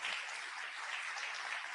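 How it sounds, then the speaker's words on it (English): Audience applause at a fall convocation ceremony, a steady, fairly faint wash of clapping filling the whole short moment with no voices over it. "with the aid of Dr. Sophia Lauren, who deserves a round of applause also"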